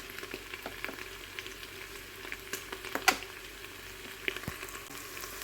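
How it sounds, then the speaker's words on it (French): Lardons browning inside a Cookeo multicooker make a soft, low sizzle, with scattered light clicks and taps from stirring, all fairly faint and close. "Et je viens ajouter les lardons. Et je mélange. Et on laisse dorer."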